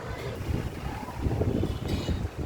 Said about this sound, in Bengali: এই যে বাতাসের শব্দ নিশ্চয়ই অনেকে শুনতে পাচ্ছেন এত সুন্দর বাতাস